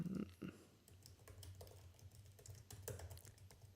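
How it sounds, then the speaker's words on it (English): Quiet typing on a computer keyboard, scattered clusters of soft key taps and clicks at an uneven pace, faint and somewhat distant, with a low hum underneath. "I'm trying to type and it's like super far away"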